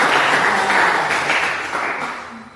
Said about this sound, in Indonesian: Berikan tepuk tangan ini.